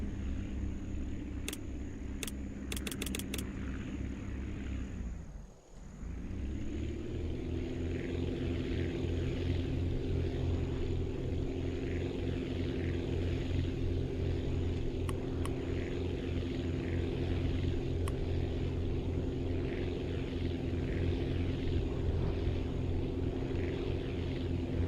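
A wood-engine propeller plane in the flight game Aviassembly drones steadily with a buzzing engine hum throughout, briefly dipping before resuming at an even, loud level.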